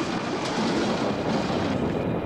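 A train rumbles past with a steady, loud broadband roar and faint clatter of wheels, continuous throughout with no voices.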